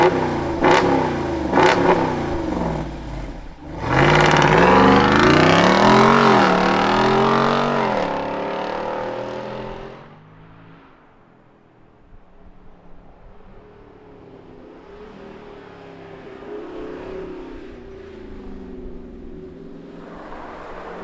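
A 2023 Jeep Wrangler Rubicon 392 20th Anniversary Edition fires up in loud exhaust mode with a sharp bark and roaring revs, then settles into a deep, rumbling idle that fills the rest of the clip.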